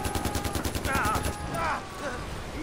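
Rapid, evenly spaced gunfire bursts from Far Cry 4 gameplay fill the first second and a half, with a voice talking over the shots and louder game sounds continuing after.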